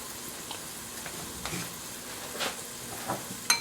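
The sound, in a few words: onions and celery sweating in a pan over low heat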